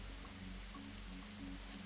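Steady rain in the Darkside Detective point-and-click game, a constant hiss of falling drops with a low droning ambience beneath, unbroken throughout and with no talk.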